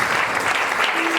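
A church congregation claps steadily through a brief burst of applause, dense and evenly paced, filling the hall with no other sound.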